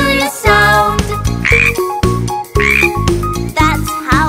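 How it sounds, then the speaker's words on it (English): Loud frog croaks repeat in a bouncy rhythm over a children's nursery-rhyme tune, with regular, evenly spaced croaks across several seconds. "Frog finger, how do you sound?"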